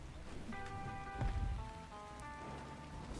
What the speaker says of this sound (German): Oh mein Gott, es regnet einfach nur.